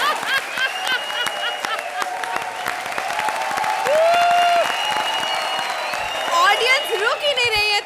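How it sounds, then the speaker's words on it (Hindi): Sustained applause from a studio audience at a televised comedy show, dense and continuous, with voices and tonal music cues rising over the clapping toward the end. "तालियों की बरसात हो रही है"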